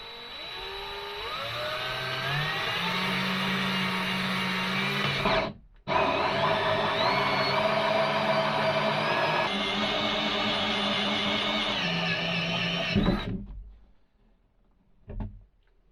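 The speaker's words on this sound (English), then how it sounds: "I'm going to start cutting with this 4-inch hole saw." A 4-inch hole saw on a drill cuts into a vintage camper's black tank with a loud, whining grind that rises in pitch, pauses briefly, resumes, then winds down and stops.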